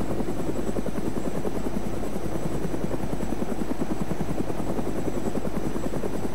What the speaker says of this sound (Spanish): vamos a levantar el helicóptero